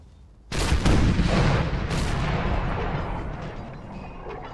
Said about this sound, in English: So one last volley.